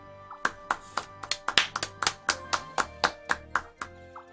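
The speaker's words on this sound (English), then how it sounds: "Should we give her a round of applause?" One person claps steadily about fifteen times in an even rhythm, each clap sharp and close, with no voices, during a Mario Party 5 game.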